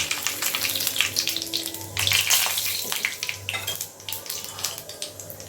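Whole spices (fennel seeds, cinnamon, clove, cardamom, bay leaf) sizzling loudly in hot oil for semiya chicken biryani, a continuous hissing crackle with brief louder bursts and a low hum beneath, no talk.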